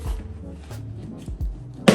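Catfish being shaken in cornmeal inside a lidded container gives a few dull, close thumps and a soft rattle, ending in a sharper, louder shaking burst.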